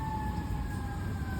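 Emergency vehicle sirens wail steadily outside in the distance, a sustained two-tone whine over low rumbling background noise.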